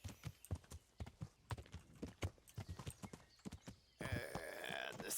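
A horse's hooves clip-clop at a steady trot while ridden in Kingdom Come: Deliverance. The sharp beats come alone and fairly close for about four seconds, then a louder, dense rush of sound takes over.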